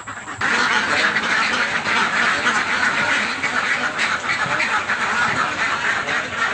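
A flock of farm ducks quacks loudly and continuously at close range, a dense overlapping chorus that runs without pause from just after the start to the end.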